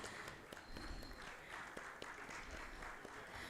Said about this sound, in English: Gentlemen, can we have a round of applause for the panelists?